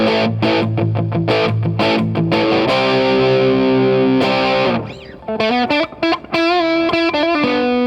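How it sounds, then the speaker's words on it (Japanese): Electric guitar driven through a BOSS SD-1W overdrive into a BOSS DD-3 digital delay: loud, crunchy distorted chords and sustained notes, then a bending lead phrase whose notes trail off in repeating echoes. "この前段にですね、歪みペダルを置いて、歪みの音をちょっとリレーしてみようかなと思います。"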